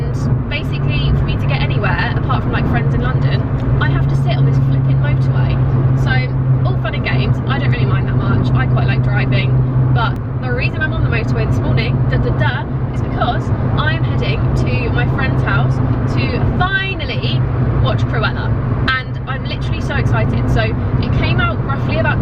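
A car driving along a UK motorway, heard from inside as a steady, loud road and engine rumble that lasts throughout, with a person talking over it.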